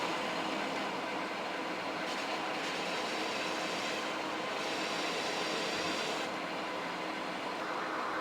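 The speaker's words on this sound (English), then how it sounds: "I'm gonna come here and apply a heavy chamfer." A metal lathe cuts a heavy chamfer while making a new cross feed screw on a restored Lion lathe, giving a steady, dense machining hiss and whir, close and continuous, with a few shifts in tone.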